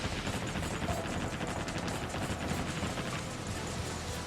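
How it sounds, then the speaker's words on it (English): Naval battleship gunfire in the warship video game Naval Ops: Warship Gunner 2 forms a dense, continuous rumble of distant cannon fire and explosions, steady and uninterrupted throughout. "I think the battleships are already shooting at me, by the way."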